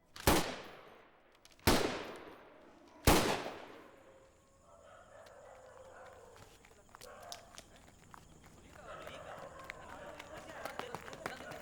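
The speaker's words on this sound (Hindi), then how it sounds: "गोली चली है बड़ा बाबू" Three sharp, loud gunshots spaced about a second and a half apart ring out in a Hindi short film, followed by quieter rustling and distant background noise.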